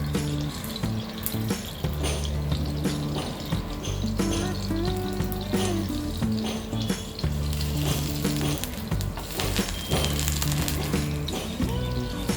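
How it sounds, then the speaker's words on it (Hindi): A sponge dosa cooks in oil on a covered pan over a low flame, giving a steady sizzle and crackle that runs throughout beneath background music. "लो फ्लेम में हम कुक करेंगे।"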